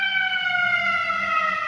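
Emergency vehicle sirens sound as a steady, sustained wailing tone with a slight downward drift, moderately loud and alone, with no talk over it.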